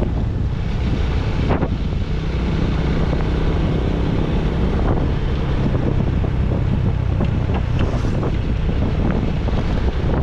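Strong southwest monsoon wind buffets the microphone continuously at sea, with a rough roaring rush and the wash of waves, no voices.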